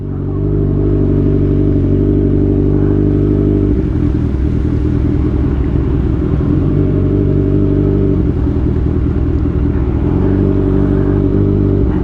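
A big bike motorcycle rides through floodwater, its engine a steady loud rumble with clattering mechanical texture and shifting throttle, continuous and close throughout with no talking.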